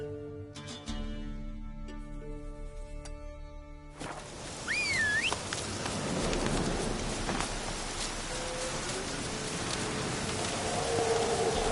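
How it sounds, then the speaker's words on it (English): Rain falls in a PS4 video game as a steady, dense hiss that starts partway through after a musical passage and carries on loudly to the end, with no voices. "Looks like rain."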